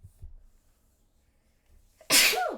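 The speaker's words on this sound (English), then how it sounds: "Oh my god, I keep sneezing." One sharp, loud sneeze bursts out near the end after quiet breathing and faint murmurs, coming from a player during a tabletop role-playing session.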